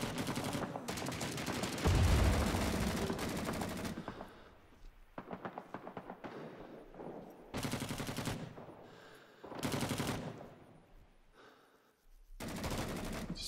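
Rifle gunfire from an M14 in the video game Rising Storm 2: Vietnam, set in Hue City: loud bursts of shots recurring across the scene with sharp broadband cracks, alone without talk.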